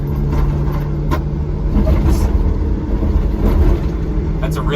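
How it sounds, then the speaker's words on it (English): Interior of a pickup truck driving over a bumpy road, with a steady low road and engine rumble and loose sockets rattling and clinking intermittently inside the cab; someone speaks over it. "That's a really bumpy road with a rattling set of sockets in here"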